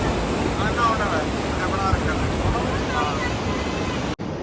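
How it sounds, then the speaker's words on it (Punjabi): A steady, loud rush of cold mountain wind on the Hemkund Sahib pilgrimage trail between Gobind Dham and Govindghat buffets the microphone without a break, then drops out abruptly near the end. "ਠੰਡੀ ਹਵਾ ਬਹੁਤ ਆ ਰਹੀ ਹੈ"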